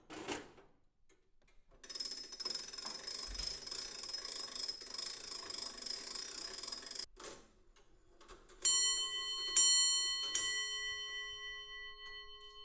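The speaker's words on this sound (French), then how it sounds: "Ce tic-tac m'a toujours accompagnée tout au long de mon enfance." Comtoise grandfather clock, a faint steady ticking that gives way to bright ringing chimes, three struck bell tones with long sustained resonant decay near the end.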